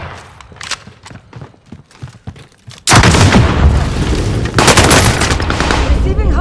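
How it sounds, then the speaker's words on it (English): A flashbang grenade goes off in the Call of Duty: Warzone video game, a sudden loud blast that cuts in after lighter scattered gunfire-like clicks and leaves a harsh, sustained roar of noise behind it. "Flashbang going out."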